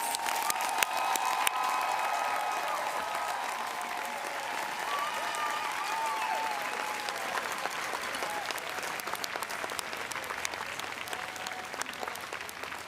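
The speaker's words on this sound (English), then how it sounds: "please join me in one last round of applause for all of our talented and dedicated graduates" Dense, sustained applause from an audience at a university commencement ceremony for graduates, a thick wash of clapping with a few scattered cheers and whistles, steady throughout.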